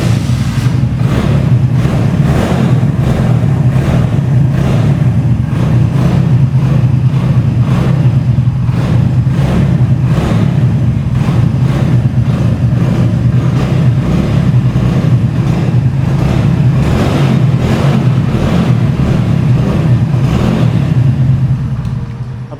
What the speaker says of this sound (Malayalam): എക്സോസ് നോട്ടിൻ്റെ സൗണ്ടാണ് നമ്മൾ കേട്ടത്. വണ്ടി സൈലൻസർ നമ്മൾ ഓപ്പൺ ചെയ്തതാണ്.